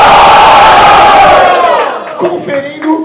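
A large crowd at a rap battle final roars and cheers loudly, the sustained shouting fading over a couple of seconds into scattered whoops and individual yells.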